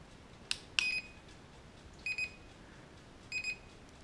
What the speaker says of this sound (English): it's that awful beep. That's it's probably one of the more annoying things about this drone, is that beep.